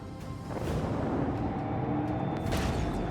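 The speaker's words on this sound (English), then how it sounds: "And it blows up" A torpedo explodes in Warhammer 40,000: Rogue Trader, a deep, rumbling blast that fills the whole stretch with sustained booming roar and crackle, loud and steady from start to finish.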